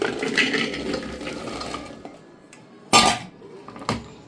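Metal kitchen clatter as drumstick pieces are dropped into a pressure cooker: a steady rattling of pieces at first, then a few sharp, loud clanks of metal on metal with quiet gaps between.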